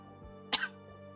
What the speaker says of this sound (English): Just a normal cough.